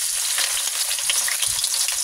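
Onions sizzling steadily in hot oil in a pan for ginisang monggo, a continuous close, bright frying hiss with faint stirring, no talk.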